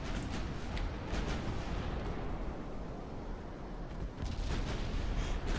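Battleship main guns firing in Ultimate Admiral Dreadnoughts during a heavy naval engagement: a thick, continuous rumble of deep booms and rolling blasts stays loud throughout, with fresh salvos flaring near the start and end.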